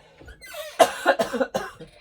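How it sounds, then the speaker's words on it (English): A woman with lung issues coughs several times in quick succession, close and fairly loud, with short gaps between harsh bursts and no talking. "I have lung issues and I'm going to be coughing from now on"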